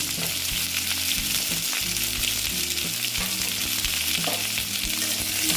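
Eggplant fries in oil with a constant loud sizzle and hiss, with occasional stirring knocks and a low steady hum in the background.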